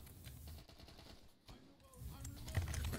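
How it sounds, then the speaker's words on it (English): In Company of Heroes, a German anti-tank gun fires in a busy battle, with sharp bursts of gunfire and impacts that come and go over a low rumble, fairly faint and distant-sounding. "the Germans firing their anti-tank at us"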